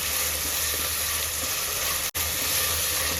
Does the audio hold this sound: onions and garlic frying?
yes